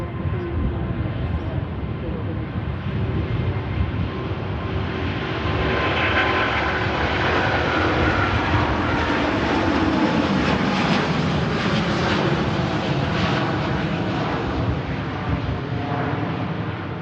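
A jet airliner rumbles loudly at Manchester Airport, a broad continuous roar of engines that swells and shifts in pitch as it moves past, close and sustained throughout, with a voice talking under it.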